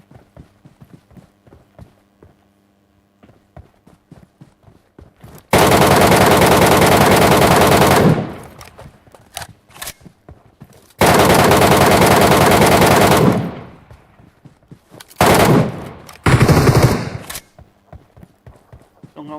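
Automatic weapons fire in Metro Royale in long, loud sustained bursts, separated by quieter stretches of scattered shots and movement, with brief talk in the gaps.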